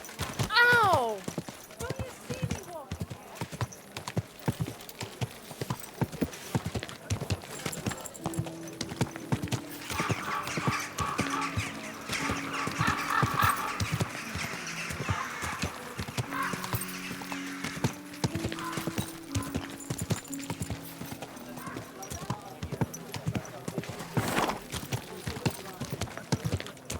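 Horse hooves clip-clopping in Kingdom Come Deliverance 2, a steady stream of close hoof strikes lasting throughout, with a whinny at the start, game music and scattered voices underneath.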